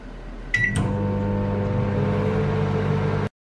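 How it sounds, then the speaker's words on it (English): A microwave oven heats a frozen doner kebab, starting with button beeps, then a steady humming drone with a low buzz that runs for a few seconds before cutting off abruptly. "So we're cooking it from frozen for 2 minutes in the microwave."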